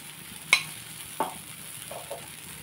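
Jaggery dosa batter atlu fry in oil on a pan over low heat, giving a soft, steady sizzle with a few faint clinks and scrapes.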